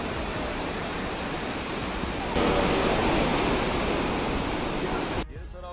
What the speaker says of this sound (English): Relentless rain pours down across southwestern France, turning familiar streets into wide streams of water.